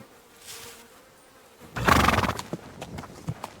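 A horse in the medieval video game Kingdom Come Deliverance 2 gives a sudden loud snorting whinny, followed by a few scattered hoof thuds against a faint buzzing ambient background.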